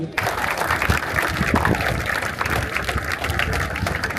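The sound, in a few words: audience applause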